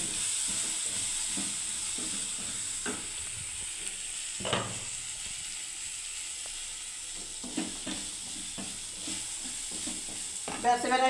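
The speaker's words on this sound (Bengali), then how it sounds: "এবার আমি ওটসটাকে ঢেলে দিলাম" Oats poured into a hot pan and stirred for a simple oats dish, with a soft steady sizzle under a string of scraping stir strokes and light clatters, no talk over it.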